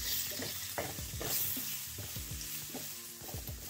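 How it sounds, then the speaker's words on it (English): Tomatoes, capers, olives and peppers fry and sizzle in a pan with browned garlic, a steady close hiss broken by repeated scraping stirs of a utensil against the pan. "So we throw tomato, capers, olives, peppers inside."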